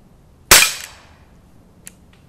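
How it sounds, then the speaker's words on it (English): An air pistol fired while wild camping in the woods, one sharp, loud crack that fades quickly, followed by a faint metallic tick of the pellet striking a target. "like a gunshot, even though it's an air pistol"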